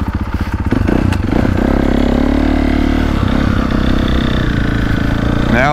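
A 2025 Honda CRF450R or 2024.5 KTM 450SXF Factory Edition motocross bike rides a lap at a track, its engine roaring loud and close, revving up and holding a steady, raspy drone throughout.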